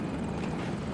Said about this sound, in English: We got a chopper, chopper, chopper.